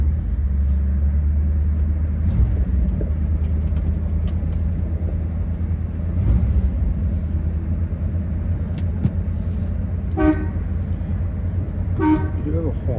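1957 Ford Thunderbird with a 312 Y-Block V8 idling in a low, steady rumble, with two short horn toots near the end and faint voices in the background.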